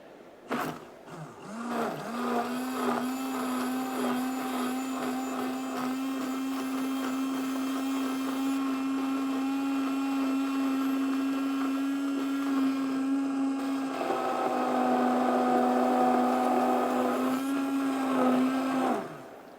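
A blender purees a lemongrass sauce, its motor whining at a steady high pitch for the full stretch and shifting tone briefly near the end before stopping.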